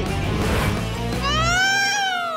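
A cartoon cat lets out a clear, rising-then-falling meow near the end, after a busier stretch of background sound, heard up close and loud.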